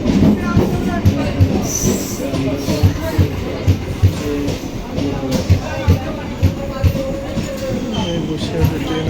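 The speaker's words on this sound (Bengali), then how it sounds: "বসিরহাটে ট্রেন আসছে" A local train pulls into Basirhat station in West Bengal with loud, close, rhythmic wheel clatter and clicking over the rail joints, plus brief metallic squeals, continuing steadily throughout.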